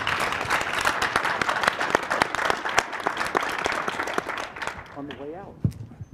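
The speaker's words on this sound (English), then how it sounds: "Let's give them a round of applause" A theater audience at the Utah Valley University Growth & Prosperity Summit applauds panelists with dense, sustained clapping that fills the room for about five seconds, then fades as a voice begins speaking.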